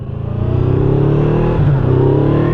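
A Ford Mustang's engine rumbles loudly and steadily close by, its deep throaty tone rising and shifting slightly as it drives past, heard from a motorcycle ride.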